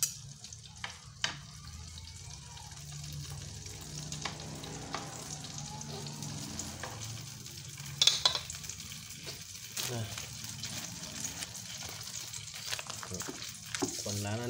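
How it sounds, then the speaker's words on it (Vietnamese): Vietnamese spring rolls (nem) deep frying in a pot of hot oil, a steady soft sizzle with occasional crackles and stirring clatter, fairly quiet throughout. "Quấn xong thả vào nồi chiên giòn."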